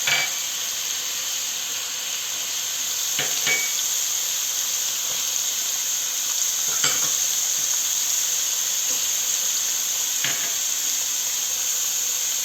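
Spices for a masala daal mash sizzle steadily in a hot frying pan, a continuous bright hiss broken by a few sharp clinks of stirring.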